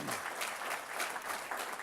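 Steady applause from a conference audience, many hands clapping continuously with no pauses, moderately loud.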